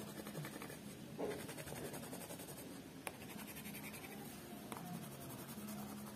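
Pencil scratching across paper in steady, continuous strokes, a soft close scraping texture with a few faint taps, no voices.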